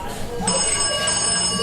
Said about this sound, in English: The phone starts ringing